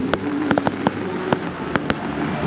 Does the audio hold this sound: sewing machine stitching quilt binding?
no